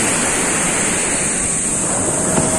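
Strong ocean waves wash steadily at a beach in Lian, Batangas, a loud, continuous roar of surf with no break and no voices.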